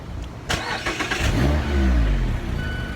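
A Mazda MX-5 Miata ND four-cylinder with a GWR RoadsterSport Super Street exhaust gives a sharp opening burst, then settles into a steady, fairly loud, droning exhaust rumble up close, with no voices.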